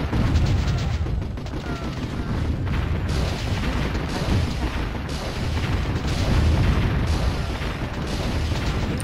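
Mortar fire and explosions in the Warzone 2100 strategy game, a dense, continuous barrage of booms and bursts with rhythmic pulses throughout, loud and close.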